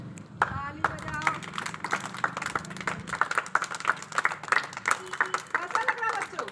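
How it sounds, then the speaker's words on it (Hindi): Children at an anganwadi centre clap their hands in scattered, uneven bursts while voices talk and chatter over the claps nearby throughout. "ताली बजाओ।"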